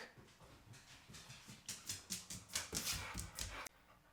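Eager dog panting quickly and whimpering just before a walk, close and fairly loud, with a rapid rhythmic run of breathy pants that builds in intensity and then stops abruptly.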